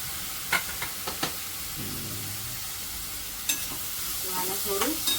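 Capsicum and onions frying in hot oil for paneer bhurji, a steady close sizzle with occasional sharp clinks of a spoon against the pan and a brief low sputter midway.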